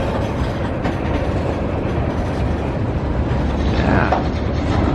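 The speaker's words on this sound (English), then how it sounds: "I don't know if I've been this close to a train in a long time." A freight train hauling liquefied petroleum gas rolls past very close, giving a loud, continuous rumble and roar with steady wheel clatter and no break in the noise.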